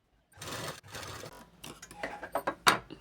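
A sewing machine stitches a blouse seam in two short, fast runs, then gives a string of sharp mechanical clicks and handling taps, all close by. No one speaks.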